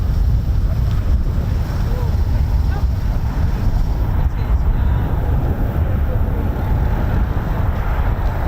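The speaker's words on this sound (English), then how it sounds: "windy today. I didn't realise how windy it was" Strong wind buffets the microphone at RAF Coningsby, a loud, unbroken roar of gusting air that never lets up.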